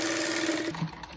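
Sewing machine stitching a rug edging strip, a short steady motor whir with rapid needle rhythm that slows and stops within about a second.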